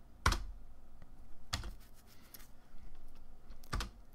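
Three short bursts of keystrokes on a computer keyboard, each a quick clatter of a few keys, with quiet gaps between, typing a command in DOSBox.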